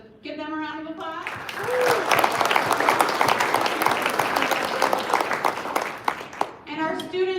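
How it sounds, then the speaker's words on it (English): Applause for families and supporters at a student achievement awards ceremony, a sustained crowd clapping that swells and holds, with a voice speaking briefly at the start and again at the end. "So give them a round of applause."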